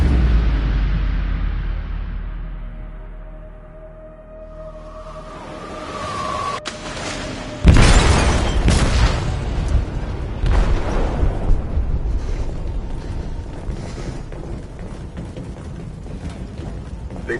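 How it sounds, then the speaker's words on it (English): An explosive detonating in a ship's hold in Detroit: Become Human, a sudden loud boom followed by a long roaring, rumbling aftermath with debris and water-like wash. "They detonated an explosive in the hold."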